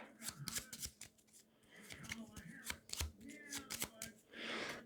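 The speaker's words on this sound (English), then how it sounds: "So here's our search cards. I'll go ahead and shuffle those real quick." A deck of search cards for the Descent board game is shuffled by hand at close range, giving quick riffling bursts and soft card slaps in an uneven rhythm over several seconds.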